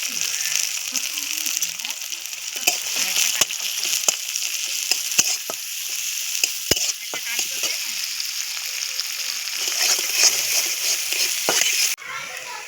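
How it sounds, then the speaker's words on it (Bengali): Chopped onion sizzles and fries steadily in hot mustard oil in a heated pan, a continuous close crackle with scattered pops and spoon scrapes throughout. "কড়া গরম হয়ে গেছে, সরিষার তেল দিয়ে দিলাম। পেঁয়াজ কুচি দিয়ে দিলাম"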